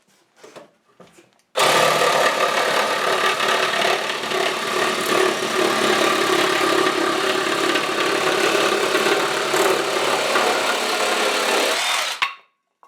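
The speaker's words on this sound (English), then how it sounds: "Here's the recip saw slicing through a 2x8." A RIDGID reciprocating saw roars steadily through a 2x8 board for about ten seconds, loud and close, starting abruptly after faint handling noises and stopping sharply.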